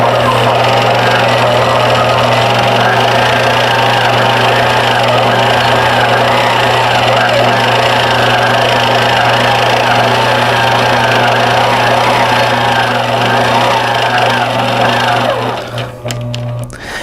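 A longarm quilting machine runs loudly and steadily with a constant motor hum and a rapid stitching rhythm, then stops near the end.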